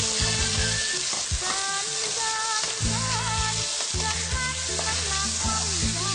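Pork frying in a hot pan for sweet and sour pork, a loud continuous sizzle under steady stirring and scraping, close up with no talk.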